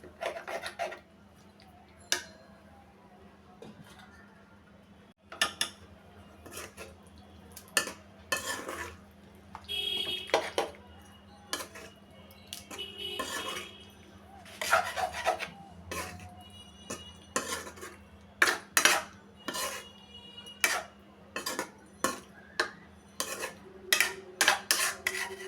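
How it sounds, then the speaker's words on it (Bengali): Fried cauliflower is stirred in a cooking pan with a metal utensil, making irregular scraping and clinking strikes that grow busier and denser over the second half, over a faint steady hum. "এবার দিয়ে দিচ্ছি ভেজে রাখা ফুলকপিগুলো, ভালোভাবে নেড়ে চেড়ে"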